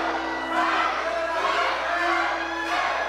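A wrestling crowd at a Magazine Dance show chants loudly in a rhythmic, swelling roar that fills the hall, with a commentator's voice over it.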